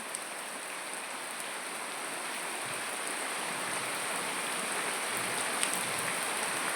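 Steady rain falls on a waterlogged yard, a dense and even hiss of drops hitting standing water that holds at a constant level throughout, with nothing else over it.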